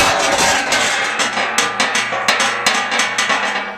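A hammer taps repeatedly on the bumper of a 1978 Dodge RV, a run of sharp metallic knocks at an uneven rhythm over a busy, ringing background.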